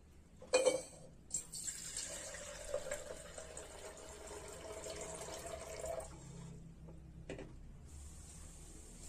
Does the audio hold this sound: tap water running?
yes